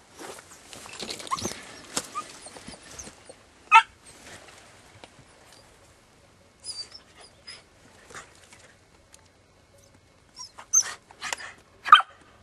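Three hunting dogs bark and pant in scattered bursts, some near and loud, others fainter, with quiet gaps between the barks.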